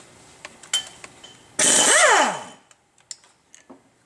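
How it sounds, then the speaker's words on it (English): Power tool undoing one of the six 19mm flywheel bolts on a crank flange: a short, loud whirring burst that winds up and spins down in under a second, between scattered close metallic clicks and taps, with no talking. "we're going to undo the 6 19mm bolts that hold the flywheel to the back of the"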